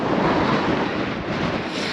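Waves and a strong, steady wind roar together at Cape Chameleon on the Crimean coast near Ordzhonikidze, a loud, continuous rush of gusts and surf with no voices.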